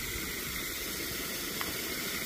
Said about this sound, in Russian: Я заполняю воду вечером в ванну